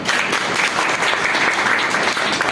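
An audience at a certificate-giving ceremony applauds a guest speaker, a sustained, even roar of many hands clapping at once, fairly close and without talk.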